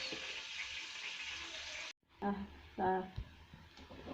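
Onion and pepper sizzle and fry in a pan, a steady broadband hiss that cuts out briefly and resumes, with clattering stirring or utensil sounds and a voice speaking over it.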